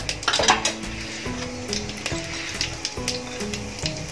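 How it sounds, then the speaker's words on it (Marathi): Mustard seeds and cumin hit hot oil in a pan, giving scattered pops and light crackling mixed with metallic clinks of utensils, over soft background music. "ते मी पॅन ठेवलाय, तेल टाकलंय त्याच्यामध्ये। मोहरी घालूया, जिरं"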